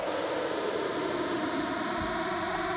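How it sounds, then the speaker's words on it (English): A white noise whip effect in an electronic dance track build-up: a short burst of bright, hissy noise sweeping quickly across the spectrum, steady and loud without any voices. "white noise whip"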